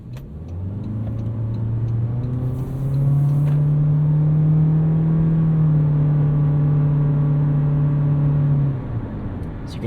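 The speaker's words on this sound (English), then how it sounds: "You can hear it whirring away there," A 2023 Toyota Corolla Cross Hybrid XSE's CVT powertrain whirs steadily under acceleration, a loud sustained engine drone that rises in pitch and holds before easing off near the end, heard from inside the cabin with no talking.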